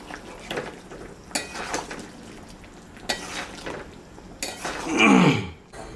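Egg and soybean curry being stirred in a pan, with a spoon scraping and clinking against the metal in several separate bursts, a louder sizzling swirl near the end, close by.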